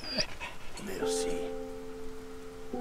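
A dog whimpers briefly in the video game Valiant Hearts, followed by a steady, sustained tonal in-game sound with light background ambience.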